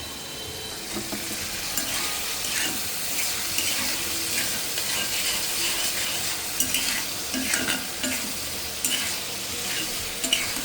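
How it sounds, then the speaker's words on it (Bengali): Spices being fried in a pan with dried fish (shutki), shrimp and pumpkin greens give a loud, steady sizzle throughout, with scattered scraping and stirring clicks from a utensil. "মশলা কষায় নিচ্ছি শুটকি শুদ্ধ।"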